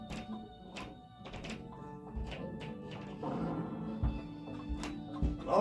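A pot smashed in a Naruto video game, heard as several dull thunks and knocks over sustained background game music, with a sharper hit near the end.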